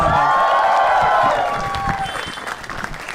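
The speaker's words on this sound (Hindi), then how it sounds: "जोरदार तालियां for Raghu" Studio audience on a comedy talent show bursts into loud, sustained applause and cheering for the comedian Raghu, dense clapping holding steady and easing slightly toward the end.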